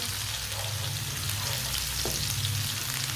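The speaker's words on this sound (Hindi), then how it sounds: "सब्ज़ लहसुन थोड़ा सा डाल लेंगे साथ, इसे भी 1 मिनट के लिए पका लेते हैं।" Chopped onion and green garlic sizzle steadily in very hot oil in a pan on the stove, with a dense, continuous crackle and an occasional stir, and no voices over it.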